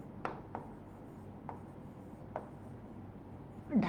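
Marker or chalk strokes on a classroom board, a few separate short scratchy taps spaced about a second apart over a low room hum, ending in a slightly louder rub.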